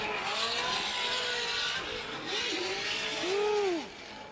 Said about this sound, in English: Supercharger getting wound out.